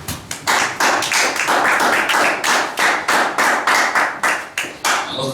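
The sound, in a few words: congregation clapping in praise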